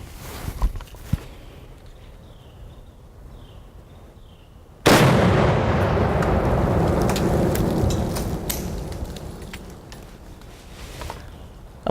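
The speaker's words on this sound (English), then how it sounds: "It's sitting on 1 pound of explosives, and I'm going to set them off with my PWS 308 AR." A PWS .308 AR rifle shot sets off one pound of explosives beneath a Glock pistol, giving a sudden loud blast with a long rumbling roar that slowly fades over several seconds, after a stretch of quiet outdoor ambience.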